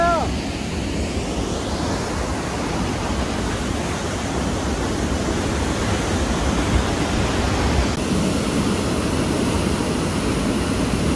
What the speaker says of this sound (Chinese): 后面就是瀑布。